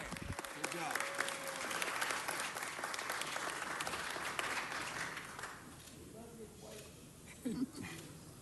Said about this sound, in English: And another round of applause for Arnie Kleiner Day in L.A.